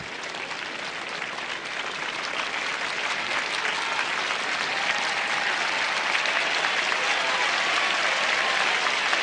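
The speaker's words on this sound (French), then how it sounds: "le public de Roland Garros qui applaudit Guillermo Vilas" A Roland-Garros centre court crowd applauds a returning tennis player during the 1978 final, a dense, steady roar of clapping that holds at full strength throughout with no voices above it.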